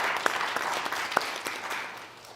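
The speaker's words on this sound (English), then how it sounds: "give yourselves a round of applause for being here tonight" Audience applause at a Mission Possible evening event, a steady wash of clapping with a few sharper individual claps standing out, moderately loud and fading slightly toward the end.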